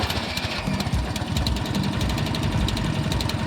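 A small Fiat 126 car engine running at a fast, even idle, with a continuous buzzing, rattly rhythm heard close by and no talk over it.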